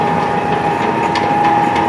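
A pellet mill motor runs close and loud as a steady, unbroken mechanical drone with a constant whining tone and no change in pitch.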